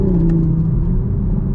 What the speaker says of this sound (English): you can actually hear a little bit of the burbles from the exhaust